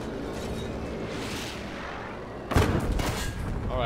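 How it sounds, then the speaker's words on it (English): Continuous rumbling battle noise, then a sudden burst of Battlefield V gunfire with sharp cracks and echoing booms. "If you hear a gunfire, that's probably me."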